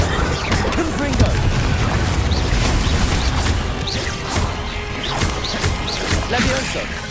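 Fiery Confringo blasts from spellcasting in Hogwarts Legacy crack and crash repeatedly amid a busy, loud mix of combat effects, impacts and other game sounds running throughout.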